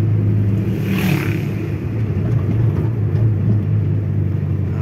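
A Mitsubishi Lancer Evo3 with fuel injection cruising under steady throttle, a continuous low engine rumble and road drone heard from inside the car, with a brief swell around the first second.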